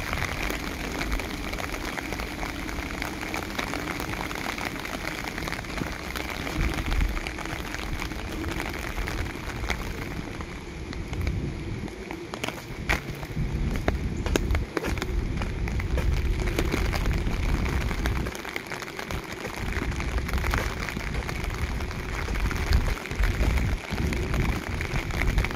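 Heavy rain falls steadily outdoors on a cold day in the UK, a dense, even hiss that holds at moderate loudness throughout with no talking.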